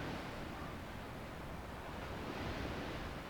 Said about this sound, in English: Can you hear the sea in the background?